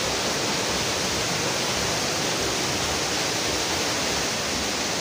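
A dense, unbroken roar of falling water from the Sinti (Shaktikhor) waterfall, loud and close, holding an even level throughout with nothing else audible.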